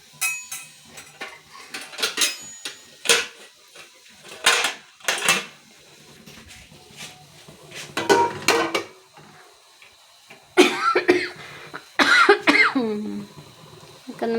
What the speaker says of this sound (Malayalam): ചുമയ്ക്കാൻ വന്നുകൊണ്ടേയിരിക്കുന്നു.